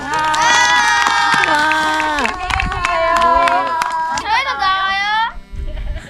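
Excited children shout and cheer together with scattered clapping, loud and close, with a brief spoken word near the start.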